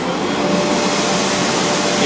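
Sanding machine loaded with 80 grit sandpaper running at a steady, loud, broadband roar like a vacuum, continuous and close for the whole two seconds with no pauses.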